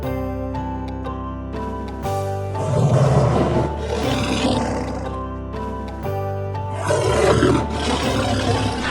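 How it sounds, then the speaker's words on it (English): A tiger roars loudly over a steady musical backing, with two strong surging bursts standing out near the middle and toward the end. "tiger,"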